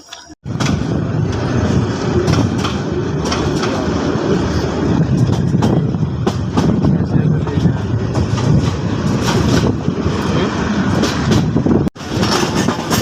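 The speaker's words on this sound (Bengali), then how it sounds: "আমাদের ট্রেনটি এখন তেজগাঁও রেল স্টেশন প্রবেশ করলো" Mohua Commuter train entering Tejgaon railway station in Dhaka, heard from on board as a loud, continuous rumble and rattle of wheels and carriages, with a brief break near the end.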